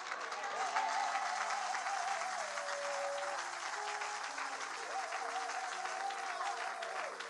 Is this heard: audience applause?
yes